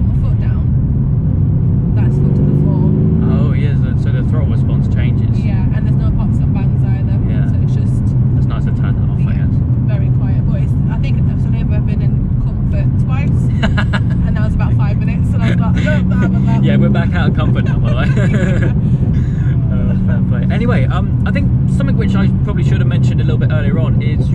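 A 624 bhp Mercedes C63 AMG engine running in comfort mode with its exhaust valves closed, a steady low rumble held throughout, with people talking over it now and then.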